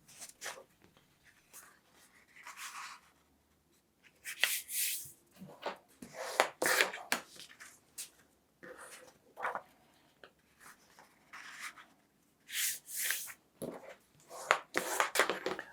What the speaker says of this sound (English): I'll start by folding some papers